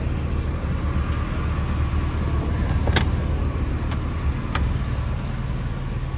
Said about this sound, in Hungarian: Egy igazi Lada Samarával fogunk száguldani.